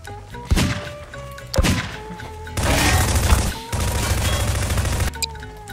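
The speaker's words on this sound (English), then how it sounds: "The rocket cluster bomb." Rocket cluster bomb blasts in Garry's Mod: two sharp booming impacts, then a long loud rumbling barrage of overlapping explosions, close and heavy, with a brief pause before the last stretch.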